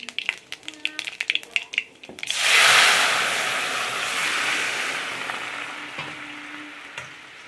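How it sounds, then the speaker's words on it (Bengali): Panch phoron five-spice drops into hot oil in a wok after a few light taps, then bursts into a loud, broad sizzle that slowly settles into a steady crackle. "5 ফোড়নটা হালকা ভেজে নিলেই তার উপর ঝোলটা দিয়ে দেবো।"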